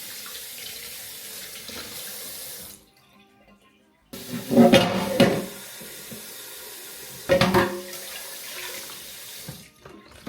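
Water runs from a kitchen tap in a steady hiss, stops, then returns with louder splashing bursts as something is rinsed under the stream nearby.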